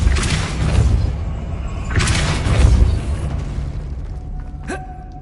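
Depulso force spell cast in the game Hogwarts Legacy, two heavy booming blasts a second apart with rumbling low end, followed by a fading tail and a short bright ring.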